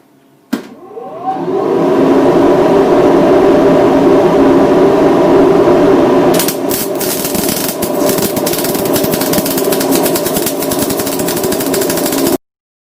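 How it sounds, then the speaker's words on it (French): MIG welding on chamfered steel plates makes a loud, steady, close hissing buzz that starts abruptly, holds for about twelve seconds with a change in texture partway through, then cuts off. "Soudure au MIG avec 2 essais, un en tirant et un en poussant."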